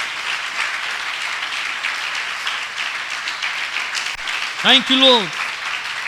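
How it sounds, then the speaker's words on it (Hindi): A church congregation claps loudly and steadily in sustained applause while someone speaks over it, ending with a short sung or exclaimed phrase. "आई जोरदार ताली बजाए प्रभु के लिए"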